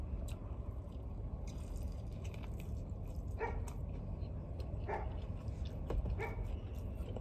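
Dogs barking in the distance, heard from inside a car, with several short barks spread through the clip under steady low road and cabin rumble.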